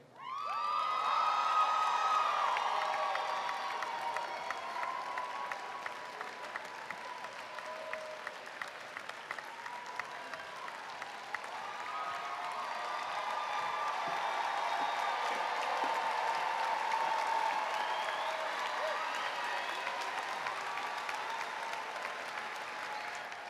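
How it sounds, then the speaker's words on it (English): Audience at a college public health and social justice pre-commencement ceremony applauding, sustained clapping from a large crowd with scattered cheers, lasting throughout. "One big round of applause."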